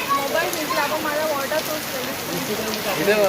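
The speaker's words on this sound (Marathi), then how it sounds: "पाऊस वरून दिसत नाही पण खाली पडल्यावर दिसतो" Steady first rain of the season, unseasonal, in Mumbai patters and hisses throughout, with scattered drip-like taps and faint voices speaking in the background.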